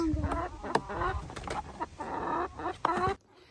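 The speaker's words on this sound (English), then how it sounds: "I've just brought Coco up to meet the hens, and they seem very happy in their coop" Several hens cluck and chatter in their coop, close and lively, with short bursts of calls over a steady background of low murmuring before the sound drops away at the end.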